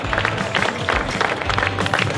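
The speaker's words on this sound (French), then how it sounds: "on va l'applaudir une nouvelle fois" Crowd applause for a rider at a stage podium ceremony of the Circuit International des Ardennes cycling race, with steady dense clapping throughout and a murmur of crowd noise beneath.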